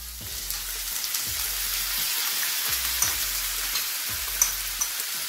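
Chopped onion frying in a hot pan after garlic in a home kitchen, a steady soft sizzle with faint crackles and a few small clicks, low and even throughout.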